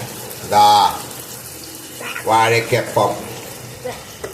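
Banana fritters in a maida, cornflour and rice-flour batter drop into hot oil and sizzle loudly in bursts, easing to a steady background fry between additions.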